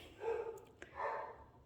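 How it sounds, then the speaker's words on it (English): Dogs bark faintly in the background, two muffled, drawn-out barks separated by a short gap, distant and low in level. "Excuse my dogs."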